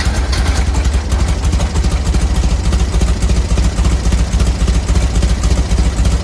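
A Volkswagen engine fitted with dual 34 carburetors runs at a steady, loud, rumbling idle with an even pulsing throb throughout, close up and with no voices.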